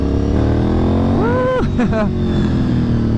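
Honda RC51 motorcycle pulling in second gear on a town road, engine loud and close, revving up, dipping briefly on the shift, then climbing again.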